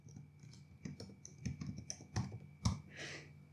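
Quick bursts of clicky keystrokes on a computer keyboard, close and fairly quiet, with irregular taps and a few louder key hits.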